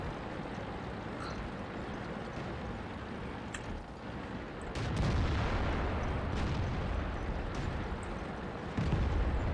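A tank cannon shot in World of Tanks lands as a deep boom near the middle, followed by a second heavier blast toward the end, both over steady rumbling battlefield ambience.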